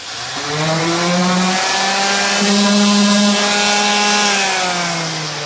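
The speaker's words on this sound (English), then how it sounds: "I'm just going to take my palm sander right here, and I'm just going to hit it a little bit on the inside diameter" A palm sander runs steadily while sanding the inside diameter of wood pieces before gluing, a loud continuous motor whine that holds an even pitch for several seconds, with no talking.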